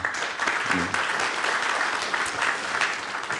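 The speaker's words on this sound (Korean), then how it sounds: "박수 한번 부탁드립니다" Audience applause at the 2019 Jeju Forum session on inter-Korean infrastructure cooperation, a steady dense clapping from a large hall crowd lasting throughout, with a brief voice faintly audible beneath.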